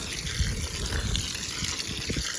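Running water gushes and splashes steadily outdoors as something is rinsed, a continuous close rushing with low splattering thumps.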